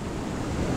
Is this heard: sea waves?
yes